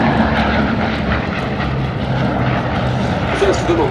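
A Bristol Blenheim Mk I twin-engine fighter flying at a Battle of Britain air show, its piston engines giving a steady, full droning roar throughout, loud and sustained, with a voice speaking over it.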